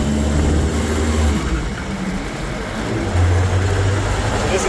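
A Kubota diesel engine swapped into a 6x6 Willys Jeep drones loudly in gear as the vehicle drives, a steady low rumble with a shift in pitch partway through, heard close inside the vehicle with wind noise and a voice talking over it.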